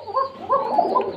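A fancy pigeon, a male of a red-beaked breeding pair kept in a loft, gives a short series of soft, throaty coos, close and clear with no talking.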